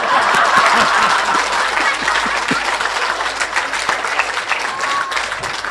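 Loud sustained applause from a lecture audience in a temple hall in Kyiv, many hands clapping steadily with some laughter and murmuring mixed in.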